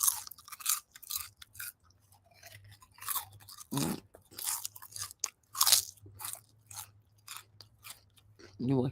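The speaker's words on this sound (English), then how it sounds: "What am I crunching on" Close, crisp crunching and chewing on a snack in an ASMR style, with bursts of bites and mouth sounds coming in uneven rhythm and soft background hum between them.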